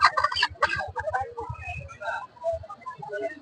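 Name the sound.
chickens clucking at a market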